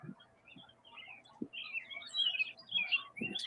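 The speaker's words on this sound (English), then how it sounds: "Yes, they got birds in Chicago" Birds chirp and tweet outdoors in Chicago, a run of bright, fairly close calls over quiet street background with a few soft thumps of footsteps.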